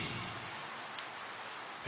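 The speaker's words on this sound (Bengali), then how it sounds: "এক বৃষ্টি ভেজা সকাল সাথে ছিঁড়ি ছিঁড়ি বৃষ্টি" Steady soft rainfall with a fine hiss and occasional droplet ticks, continuous and fairly quiet throughout.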